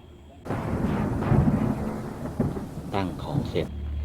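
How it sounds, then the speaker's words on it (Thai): Steady rain pours down with rumbling in the background, with a few brief louder bursts near the end. "ในจังหวะที่ฝนกำลังตกครับ"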